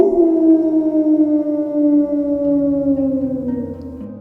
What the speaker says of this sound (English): Cone Dog barking at you again for another Dog of the Dead